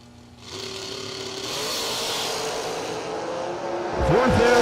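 A dragster engine rumbles and builds at a drag strip, a steady loud roar that swells and rises sharply near the end as the car launches, heard from a distance with no talk.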